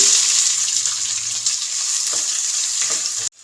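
Peanuts, mustard seeds, cumin and onion sizzle steadily in hot oil for avalakki, a loud continuous crackling hiss with a few faint stirring taps, cutting off abruptly at the end.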